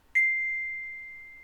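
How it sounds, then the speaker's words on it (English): Struck once with a beater, a metal chime bar gives a single bright, ringing note that lingers and fades gently in a quiet room. "or it's going to be the chime bar."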